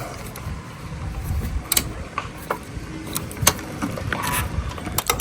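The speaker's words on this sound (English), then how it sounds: "All you do is take these two Allen bolts right here. These are 5mm. Let's crack them open." An Allen key cracks loose two 5mm bolts on an e-bike brake caliper, giving close metallic clicks, creaks and a few sharp ticks over a low background rumble.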